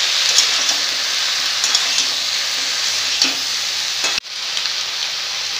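Chillies and ground coriander, turmeric and cumin fry in a pan with a loud, bright, continuous sizzle and faint stirring taps, then an abrupt clatter and a slight drop in the hiss.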